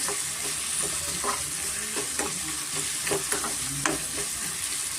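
Tomato and capsicum fry in a pressure cooker for a broken wheat bisibele bath, with a steady sizzle and irregular scraping, clinking stirs from a spoon against the metal pot.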